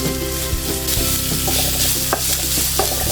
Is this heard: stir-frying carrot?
yes